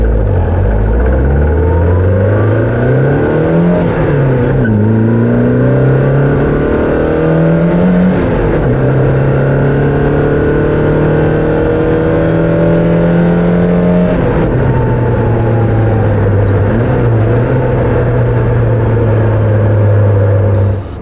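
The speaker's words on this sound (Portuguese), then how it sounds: "esse motor aqui, ele gira bastante" A 1990 Fiat Uno 1.6R naturally aspirated engine revs up and down through repeated climbs and drops in pitch, loud and close, running continuously with no voices.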